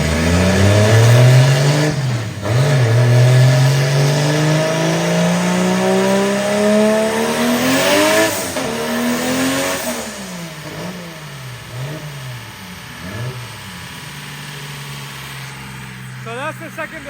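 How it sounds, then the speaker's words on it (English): A 1.5JZ engine with a new turbo revs hard on a dyno, climbing through sweeping rising pulls with drops between shifts, loud and close throughout, with a voice briefly audible over it. "so I'll bring some dyno pulls and"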